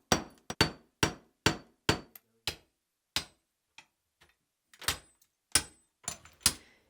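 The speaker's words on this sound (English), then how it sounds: "Use a hammer and a chisel and work your way across." Hammer strikes a chisel to break out old shower tile, sharp metallic cracks landing in an uneven series of about fifteen blows, close and loud with short silences between, no talking.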